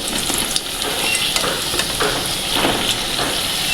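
Green bananas fry steadily in hot oil, a continuous close sizzle and crackle that holds even throughout with no voices.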